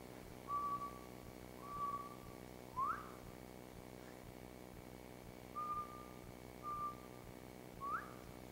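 A man whistles in imitation of a quail's call, quiet two-part phrases repeated about five times, each a held note ending in a quick upward flick, over a faint steady background hum.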